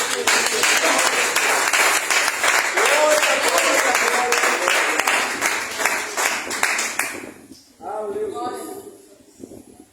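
A church congregation claps loudly and continuously during worship, dense applause filling the space before breaking off, then resuming more softly under a preacher's voice.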